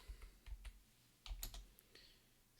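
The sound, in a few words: typing on a computer keyboard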